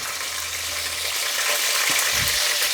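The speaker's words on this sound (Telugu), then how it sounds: "ఆయిల్ హీటెక్కింది. ఆవాలు, జీలకర్ర, కర్రీ లీఫ్, గ్రీన్ చిల్లీ," Mustard seeds, cumin, curry leaves and green chillies fry in hot oil, giving a steady broadband sizzle throughout with a few small spits and pops near the end; no talking.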